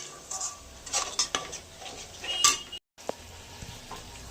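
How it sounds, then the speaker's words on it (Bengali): Yogurt prawn curry (doi chingri) with garam masala stirred in a pan, with repeated scraping and clinking of a utensil against the metal and a faint sizzle, one short pause before the stirring resumes. "ভালো করে নাড়াচাড়া করে দেবো"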